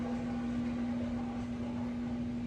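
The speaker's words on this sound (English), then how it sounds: "I do have my washer going in the background" A home washing machine runs in the background, giving a steady low hum with a constant motor tone and a soft even wash of noise, with no talk and no change in level.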